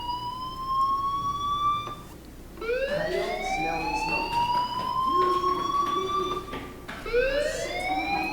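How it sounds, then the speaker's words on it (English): A school fire alarm in the video game Life is Strange wails continuously, its rising electronic tones sweeping upward over and over, fairly loud and steady with brief breaks between sweeps. "Hey, do you hear that fire alarm? That means you should be outside."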